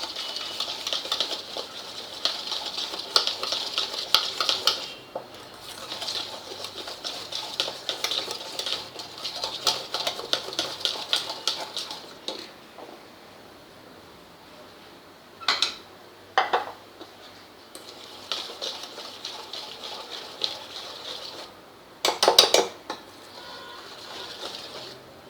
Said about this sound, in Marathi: आता आपल्याला याच्यात हे मिक्स केलेले थोडं थोडं टाकत मिक्स करून घ्यायचं याच्यात